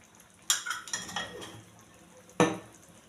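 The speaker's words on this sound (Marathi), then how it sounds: "छान मिक्स करून घेते वरून थोडंसं तूप घालते" Lasooni palak paneer being mixed in a pan with kasuri methi, a few sharp scrapes and clinks of a spoon against metal, three distinct strokes with quiet pauses between, close and clear.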